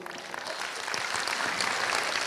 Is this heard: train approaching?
no